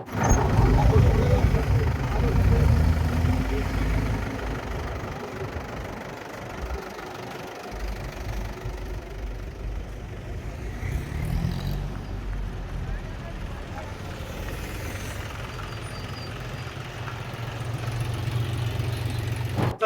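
Tractor engines at a patriotic tricolour tractor rally held by farmers, a steady low rumble of idling and running motors that swells at the start and end, with indistinct voices mixed in.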